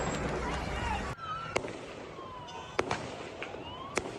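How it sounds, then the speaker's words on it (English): Sharp gunshots ring out in a mass shooting attack, a few separate cracks spaced over several seconds against a noisy background of wailing sirens and commotion. "Gunshot."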